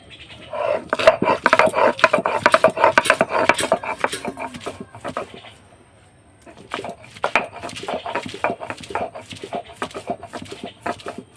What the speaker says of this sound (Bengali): তো আদা রসুনটা আমি একটু বেটে নিচ্ছি।